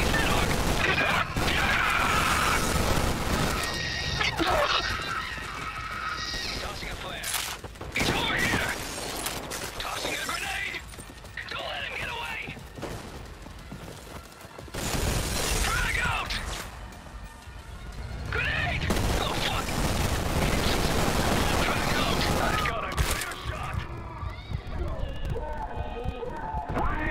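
Gunfire in the shooter video game Trepang 2, dense bursts and crashing impacts running almost continuously at high loudness, with shouted voices talking over the firefight.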